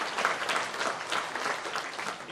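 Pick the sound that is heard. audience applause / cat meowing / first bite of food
audience applause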